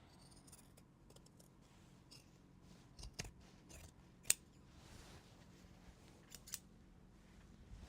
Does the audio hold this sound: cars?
no